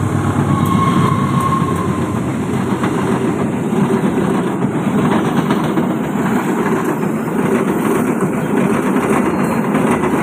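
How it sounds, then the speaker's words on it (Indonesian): A Walahar local passenger train from Cikarang rolls past near Purwakarta, Indonesia, a loud, steady rumble of wheels and carriages with rhythmic clacking over rail joints and no talk. "Walahar yang dari Cikarang"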